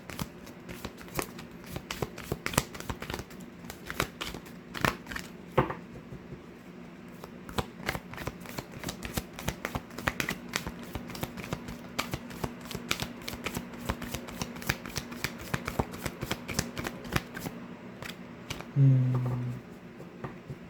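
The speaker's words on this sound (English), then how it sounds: "Let's go ahead and pull some cards." Tarot cards being shuffled by hand in a steady stream of crisp riffling clicks and flutters, close and fairly soft, continuing for about twenty seconds with no talk.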